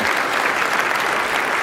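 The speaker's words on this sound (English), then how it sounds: "A round of applause for Christopher" Brief, dense audience applause for Christopher, loud and steady throughout with no gaps.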